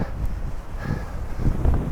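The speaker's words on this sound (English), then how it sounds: "It's windy. I'm feeling that headwind." Steady wind roaring across the microphone as a headwind, a continuous low rumble with gusty buffeting throughout.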